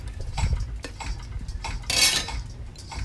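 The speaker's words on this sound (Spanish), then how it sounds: "Lo empiezo a cortar de esta manera en tiritas y lo reservo" A kitchen knife slices a chili pepper into thin strips on a cutting board, giving a few sharp clicks and taps up close, with one brighter scraping stroke partway through and no talk.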